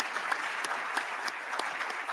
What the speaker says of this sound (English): we should give a round of applause to our great presenters